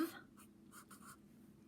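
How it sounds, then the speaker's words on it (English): Pen or marker strokes write letters by hand in a few short, soft scratching bursts, close but faint. "We're going to write."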